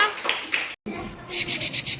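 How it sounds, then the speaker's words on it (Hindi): A voice speaks briefly, then a short burst of rhythmic hand clapping follows, several quick claps in a steady pattern close by. "जोरदार तालियां"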